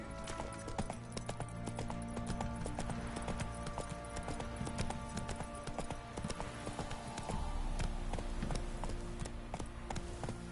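Roach the horse galloping in The Witcher 3, a steady fast clip-clop of hooves running continuously at a moderate distance, with faint game ambience underneath.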